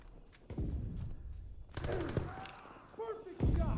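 Sharp sniper rifle shots in the World War II shooter Call of Duty WWII, several cracks spaced a second or so apart amid battlefield noise and shouted voices.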